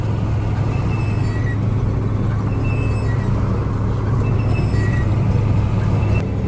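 KAMAZ truck loaded with about 13-14 tonnes of corn rolling along, heard from inside as a constant loud low engine rumble and drone with steady road noise throughout.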